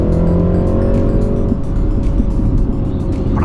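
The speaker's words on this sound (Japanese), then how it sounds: "エキゾーストがねブボボボボっていういい音がしますね。" A MINI Countryman JCW accelerating, with a loud, continuous engine and exhaust roar heard up close from inside the car, a rising tone, and dense crackling texture throughout.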